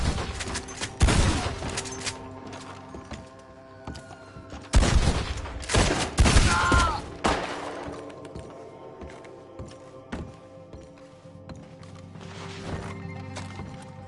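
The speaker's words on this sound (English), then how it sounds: "Come out where I can shoot you." Gunfire in a PS4 video game: loud bursts of shots and crashing impacts amid busy game action and background noise, with quieter stretches in between.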